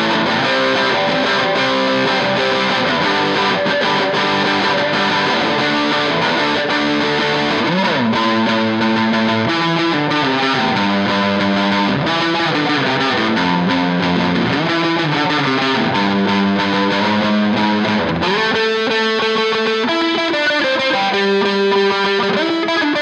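Revelation RJT-60 Jazzmaster electric guitar on its neck pickup, played through heavy distortion, rings out loud and continuous with sustained chords and riffs and no talking.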